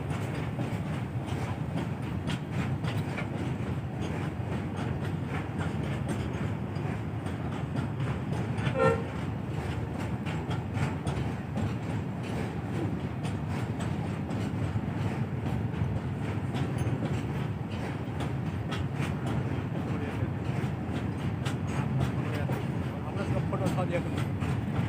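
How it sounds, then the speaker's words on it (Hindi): A 52-wagon goods train crosses a rail bridge in the evening, with a continuous low rumble and rolling clatter heard from a distance, a brief horn-like tone midway, and a voice talking over it. "52 बोगी का ये माल ट्रेन है"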